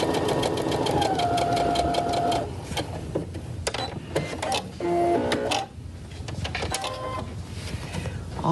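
A sewing machine stitches a quarter-inch quilting seam with a piecing foot, its motor a steady mechanical whir that runs in bursts with brief slowdowns and pauses, close and fairly loud.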